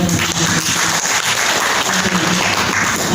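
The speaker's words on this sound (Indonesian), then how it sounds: "Tepuk tangan ini." A room of attendees at a tourism workforce competency certification event breaks into loud, dense applause, steady clapping filling the whole stretch.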